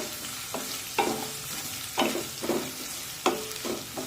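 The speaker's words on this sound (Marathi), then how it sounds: "हा कांदा हलका तांबूस रंगावर भाजून घेऊया" A large finely chopped onion fries in a pan for a sorghum-flour breakfast dish, a steady sizzle broken by repeated scraping stirs of the spatula at irregular intervals, close and moderately loud.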